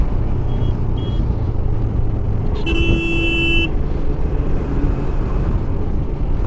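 Heavy road traffic on a busy highway lined with trucks near Dhupguri heading toward Jalpaiguri: a constant loud engine and tyre rumble, with a couple of short horn toots and one sustained honk in the middle.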